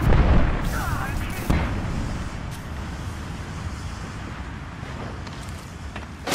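A grenade explodes in a video game firefight with a loud, heavy boom at the start, then a second sharp blast about a second later. A rumbling, noisy battle ambience continues underneath.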